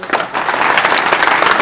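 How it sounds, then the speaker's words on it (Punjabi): Audience applause at a prize distribution ceremony in Sharaqpur Sharif, steady dense clapping from a crowd that holds loud and even for the whole stretch. "ਲਓ ਵੀ ਸਾਰੇ ਬੰਦੇ ਜਿਹੜੇ ਨੇ ਇੱਕ ਵਾਰੀ ਤਾੜੀਆਂ ਮਾਰਨੀਆਂ ਨੇ ਕਿ ਪਤਾ ਲੱਗੇ।"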